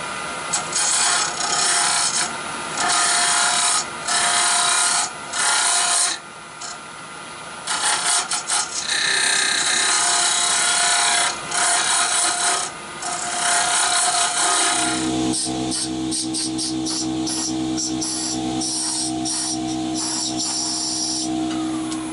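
A straight cutter with a fresh, very sharp tip hollows the inside of a small yew hollow form on a lathe, giving a continuous scraping, rasping cut. It changes to a smoother, lower steady tone partway through, with no voices.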